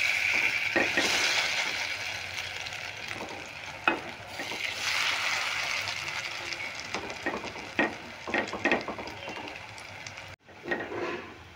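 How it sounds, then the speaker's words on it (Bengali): Slices of bread frying in a pan, a soft steady sizzle broken by clattering taps and scrapes as the pieces are turned, fairly quiet and close, with no talk. "দেখো এগুলো আমি উল্টে পাল্টে ভেজে নিলাম।"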